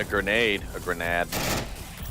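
Gunfire in the VR shooter Onward during a competitive round-robin match: a short burst of shots under a commentator's talk.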